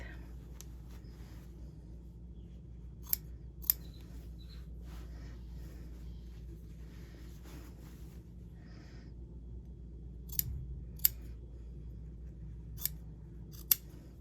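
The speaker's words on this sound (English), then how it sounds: "So just trim that facing seam allowance down to 1/8." Shears trim a fabric facing seam allowance with scattered, faint, crisp snips over a low room hum, a few isolated cuts spread through a quiet stretch.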